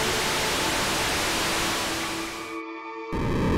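ARC Noise Rainbow Eurorack synthesizer module putting out digital white noise, a dense hissing with faint tonal lines, briefly cutting out before the hiss returns, loud and steady.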